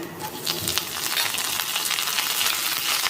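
Curry leaves crackling in hot oil at the start of a bitter gourd fry, a dense continuous sizzle with sharp spitting pops, close and fairly loud.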